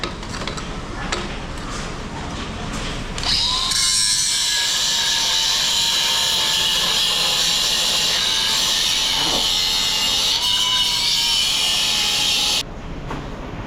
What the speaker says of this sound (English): I'm gonna have to grind this a little bit because I can't get the dang thing out of there.